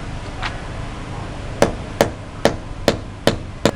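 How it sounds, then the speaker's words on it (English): A hammer drives a 2-inch concrete nail into a wall during a DStv satellite installation: one faint early tap, then six sharp, evenly spaced metallic blows about half a second apart, close and alone. "If I'm to nail all this place, that means I will nail up to six concrete nails inside it."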